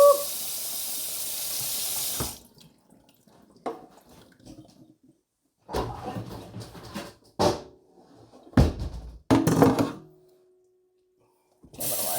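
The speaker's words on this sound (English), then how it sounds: "Cold water. And you want to do it until the water in your bowl runs clear." Cold tap water runs into a bowl while rinsing sourdough dough, a rushing flow in the opening seconds followed by intermittent splashes and sloshing bursts separated by quiet gaps.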